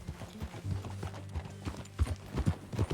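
Horse hooves clip-clop steadily at a riding pace in Red Dead Redemption 2, the rhythmic thuds fairly close and moderately loud, with a faint low rumble of movement underneath.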